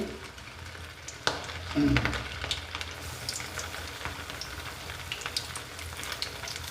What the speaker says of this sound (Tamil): மசாலாவில் ஊற வச்ச மீனை எண்ணெயில் அப்படியே இறக்கிக்கலாம் அது நல்லா கொதி வருது